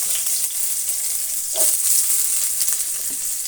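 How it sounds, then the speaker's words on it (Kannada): Chopped onions going into a pan for a rice bath dish: a bright, steady sizzle and crackle of frying throughout, with a couple of soft stirring scrapes partway through. "ಅದೇ ಬಾಣಲಿಗೆ ನೋಡಿ, ಈರುಳ್ಳಿ ಕಟ್ ಮಾಡಿರೋದನ್ನು ಹಾಕೋಣ"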